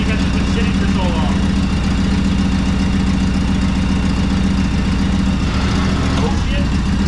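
A used lawnmower engine runs steadily on full choke after sitting unused for a long time, a loud, continuous rough idle close by with a voice speaking over it.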